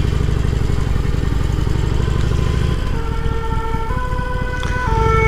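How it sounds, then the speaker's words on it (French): A fire engine's siren wails loudly close by, its rising and falling tones sweeping past over road and motorcycle engine noise, with the pitch stepping as the vehicle moves through traffic. "c'est bien quand ils mettent toujours leur sirène les pompiers"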